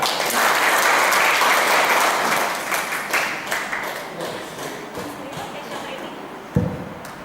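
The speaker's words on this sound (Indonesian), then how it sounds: "Kita beri tepukan yang meriah untuk Ibu Sasha" A school audience at a quantum learning session in Lhokseumawe breaks into loud, dense applause that swells at first and then slowly fades over several seconds, ending with a single sharp knock.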